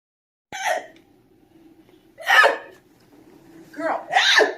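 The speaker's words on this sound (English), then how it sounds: "I got the hiccups." Hiccups come in three abrupt, breathy bursts spaced roughly two seconds apart, close and fairly loud, with quiet breathing between them.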